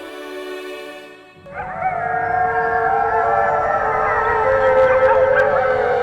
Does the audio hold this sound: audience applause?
no